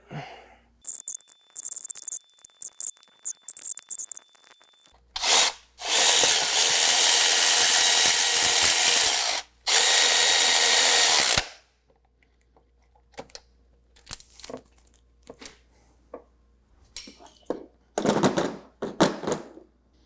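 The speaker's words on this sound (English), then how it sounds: "you may have noticed how my ratchet stopped there" A ratchet tightening starter motor bolts makes bursts of rapid clicking, with two long dense stretches and shorter scattered clicks, close up and without speech.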